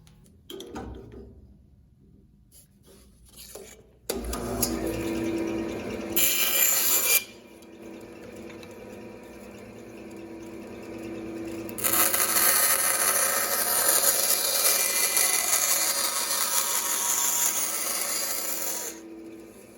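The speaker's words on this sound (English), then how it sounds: "Let's go to the bandsaw and just kind of cut this shape out" A bandsaw cuts the shape of a wooden end wedge for an acoustic guitar, with a loud, continuous rasping buzz that starts a few seconds in, shifts in intensity partway through and runs steadily to the end.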